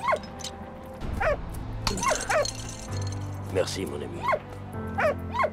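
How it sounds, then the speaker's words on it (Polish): A dog in the Valiant Hearts video game yips and barks in short repeated bursts over steady game music, with spoken lines of dialogue in between. "No i uwalniamy pieska."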